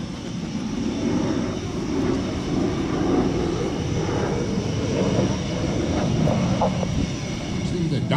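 Steady low roar of a Blue Angels jet engine rumbling nearby at Pensacola Naval Air Station, continuous and fairly loud throughout.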